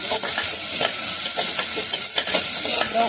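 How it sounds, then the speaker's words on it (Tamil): Onions sizzle and fry in a pan for a South Indian fish curry as they are stirred toward golden brown, a steady loud crackle with soft scraping strokes, close by and with no voices. "வெங்காயம் போட்டு நல்லா கோல்டன் ப்ரௌன் வர வரைக்கும் நல்லா வதக்கணும்"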